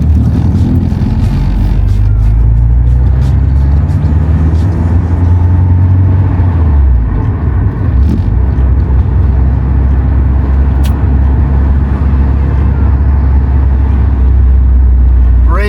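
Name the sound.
car engine driving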